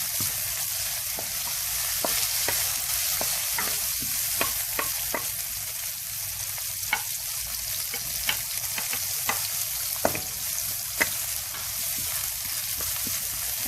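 Onion and garlic sautéing in a wok in an outdoor kitchen, with a steady hiss of frying and a run of sharp scraping and clanking stirring strokes throughout, close and fairly loud, no talking.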